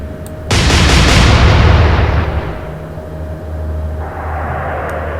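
A loud, booming salvo of naval gunfire from the Atlantic Fleet naval warfare game bursts out suddenly, then rolls into a long roaring decay that keeps rumbling steadily to the end.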